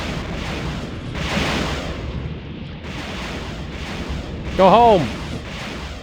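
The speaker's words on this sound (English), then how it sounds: "Oh, the German fleet's firing at them from long range." A naval fleet in Supreme Ruler Ultimate fires at long range, sending dull rolling artillery booms in spaced waves beneath people talking.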